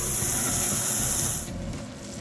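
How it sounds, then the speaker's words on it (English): A steak sizzles hard in melted butter in a hot pan, a loud close hissing crackle that holds for about a second and a half, then softens to a quieter simmer. "Into the pan goes a knob of butter, and when it's melted, in goes the steak."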